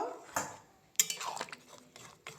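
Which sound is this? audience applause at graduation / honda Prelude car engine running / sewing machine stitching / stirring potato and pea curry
stirring potato and pea curry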